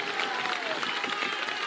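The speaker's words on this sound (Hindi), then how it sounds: "अब बजा लो ताली जितना बजाना है।" A crowd at a political rally in Bihar claps in a dense, steady wash of applause, with a voice murmuring faintly beneath.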